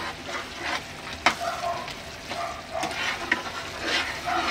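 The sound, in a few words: stirring Schezwan chutney spices frying in oil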